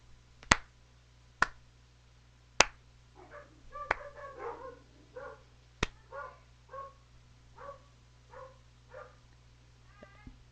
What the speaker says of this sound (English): The dogs barked because I laughed